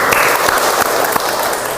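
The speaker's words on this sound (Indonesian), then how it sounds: "Tepuk tangan dulu." A classroom of students applauds after results of a ranking are announced, a loud, dense burst of many hands clapping that continues steadily throughout, close and without talk.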